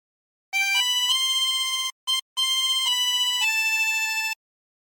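A harmonica plays a phrase of a song, clear sustained reedy notes that step between pitches and break off briefly partway through, close and alone.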